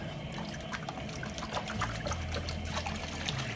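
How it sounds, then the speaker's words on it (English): Water sloshes and trickles steadily in a gold pan as dirt is washed off gold ore, a close, continuous splashing and dribbling with no talk. "Kind of washing the dirt first, right? To get all the junk off it."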